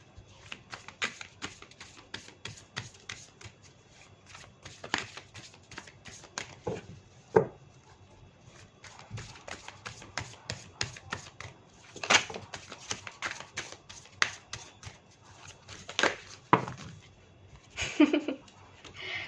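Tarot cards shuffled and drawn by hand, quick papery riffles and slaps in irregular bursts close by, with some brief talk.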